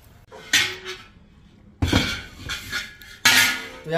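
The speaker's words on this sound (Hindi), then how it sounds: "तो यहाँ पर दोस्तों मोहन थाल बनाने के लिए हमने एक कढ़ाई रख दी" A kadhai is set on a halwai-style bhatti stove for making Mohan thal: three separate metallic clanks and scrapes of heavy cookware, close by, with quiet pauses between.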